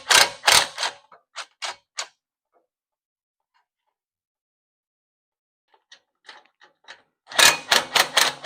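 Ratchet clicks sound while header collector bolts are removed from a 1970 Dodge Challenger, coming in quick bursts of sharp ticks with long silent gaps between them.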